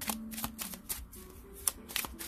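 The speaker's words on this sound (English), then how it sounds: "Oh, the cards fall out." Tarot cards slipping out of a deck during a June reading, a series of soft papery flicks and slaps close by, recurring irregularly over a couple of seconds with a faint steady hum underneath.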